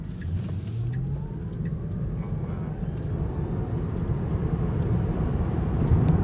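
A Tesla Model 3 electric car accelerates hard from inside the cabin, with a loud steady rumble of road and tire noise and a faint rising motor whine that swells toward the end.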